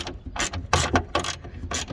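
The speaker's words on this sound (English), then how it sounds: "to remove this nuts is gonna take a 10mm socket" Clicking ratchet with a 10mm socket loosening nuts inside a BMW 328i E90 front door, several short bursts of metallic ratcheting clicks in an uneven rhythm, close and fairly loud with no talking.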